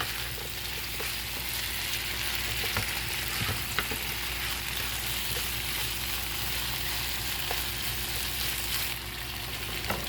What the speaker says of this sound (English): I'm just really just continuously stirring the shrimp